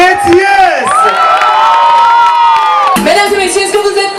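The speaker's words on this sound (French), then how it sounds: "Applaudissez bien fort Métiès." Crowd at an outdoor festival stage show in Goyave cheers loudly, with close, high whoops and shouts that swell and then drop off abruptly near the end.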